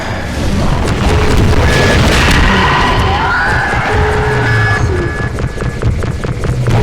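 A rocket blast in Half-Life 2 erupts as a loud, sustained boom with heavy low rumble. Game effects and chatter carry through the full seven seconds.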